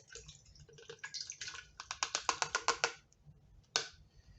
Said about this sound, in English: Now I'm going to pour my blueberries in the blender